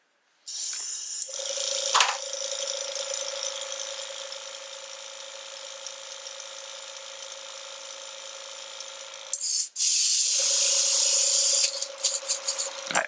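Airbrush spraying cleaner in one long steady hiss for about eight seconds, then a brief pause and a second burst, close and loud with no talking.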